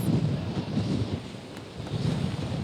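Strong Hurricane Matthew wind buffets the microphone in a rough, rumbling roar that swells and eases without a break; no voices are heard.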